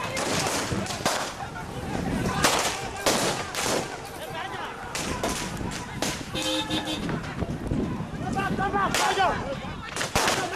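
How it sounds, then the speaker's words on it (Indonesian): Sharp gunshots crack repeatedly as police fire into the air to disperse a street demonstration in West Papua, several loud bursts scattered irregularly over shouting and commotion. "Polisi membubarkan massa dengan mengeluarkan tembakan ke udara"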